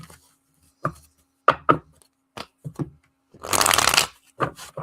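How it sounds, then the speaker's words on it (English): Tarot cards shuffled up close, first a few separate sharp taps and slaps of the deck, then a loud dense riffle lasting under a second, followed by more taps. "One more shuffle."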